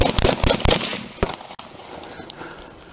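Gunshots ring out during a police confrontation with a suspect, a rapid burst of several loud, sharp cracks in the first second, then another lone shot followed by fading echo and background noise.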